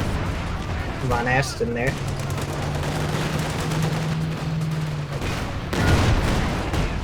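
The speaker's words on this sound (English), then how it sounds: "another Stuka barrage goes down, wipes the Vet 3 AT gun entirely and destroys it" A Stuka dive bomber barrage explodes in Company of Heroes, a rumbling burst of blasts and gunfire swelling near the end, while a commentator talks over the steady battlefield din.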